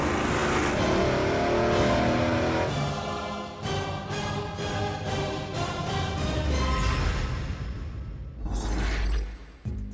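Supercharged big-block V8 running on E85 with nitrous, around 1,500 horsepower, revving hard and loud on a dyno, with a rising harmonic roar, sharp throttle blips and a final surge near the end.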